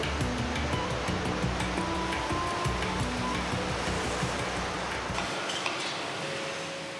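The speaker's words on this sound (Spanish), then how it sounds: "el puerto se ve sacudido por enormes olas que acaban destrozando algunos barcos" Enormous waves batter a harbour, heavy enough to wreck some of the boats moored there: a loud, continuous roaring wash of surging water that holds steady before thinning out near the end. No voices are heard.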